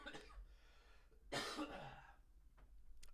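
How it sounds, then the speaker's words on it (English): A lecturer in a virtual class coughs once in a harsh, close burst, with a lighter cough just before it, over quiet room hum and no talking. "I apologize about the coughing."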